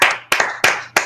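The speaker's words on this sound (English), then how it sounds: "I'm clapping one-handed." One person claps alone in four sharp, evenly spaced claps, each with a brief echoing decay, and nobody talks.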